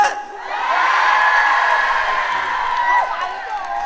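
An outdoor town festival crowd cheers and shouts loudly for a singer's entrance, a sustained roar of mixed voices and whoops lasting the whole few seconds.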